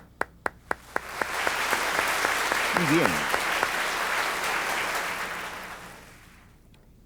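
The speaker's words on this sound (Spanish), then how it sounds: "Denle un aplauso." A Baptist church congregation bursts into sustained applause after a few sharp opening claps, swelling to a dense, steady roar for several seconds before tapering off, with a brief spoken phrase partway through.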